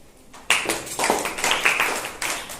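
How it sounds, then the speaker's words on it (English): Small classroom audience clapping to welcome presenters, a sharp onset of applause from a modest group of hands with uneven, slightly rhythmic bursts, close and fairly loud, with no talk over it. "Welcome them with a big clap."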